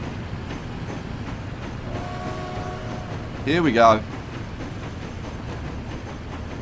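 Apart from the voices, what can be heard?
train moving in underground station, Transport Fever video game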